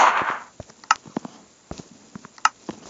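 Mini Uzi firing in a Minecraft Pocket Edition guns mod, a video game; a short run of loud, dry, sharp synthetic gun pops at irregular intervals.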